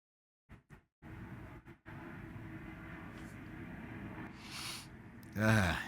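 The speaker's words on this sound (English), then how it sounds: "fucking airplanes" An airplane flies overhead, a steady broad roar that holds for several seconds and swells slightly before fading, preceded by a few short bursts of sound and ending with a sharp breathy noise.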